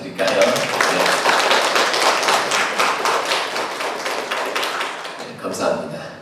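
A church congregation claps in thanks for fathers during a Father's Day service, a dense burst of hand claps that slowly thins and fades, with a brief renewed flurry near the end.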